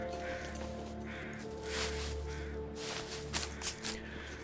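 Crows caw in The Long Dark survival game, a few harsh calls over a steady wind-like ambient bed, distant and faint.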